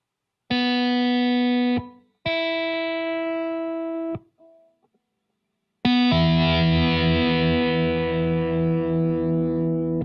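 A Kite guitar played through heavy distortion rings out two sustained single notes, a short pause, then a thick chord that swells and holds, its buzzing overtones and difference tones sounding loud and alone.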